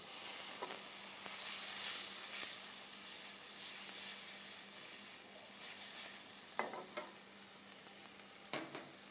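Cherry tomatoes and chilies sizzle steadily in a hot pan for a penne arrabbiata sauce, a continuous bright frying hiss with a few sharper stirring clinks near the end.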